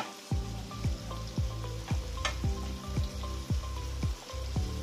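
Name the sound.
bell peppers sautéing in melted butter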